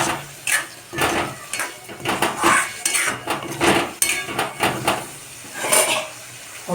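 A spoon stirs green peas into onion paneer in a pan, giving repeated close clinks and scrapes in an uneven rhythm, with short pauses between strokes and no speech.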